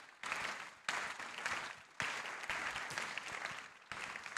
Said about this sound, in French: on peut applaudir ce panel pour leur retour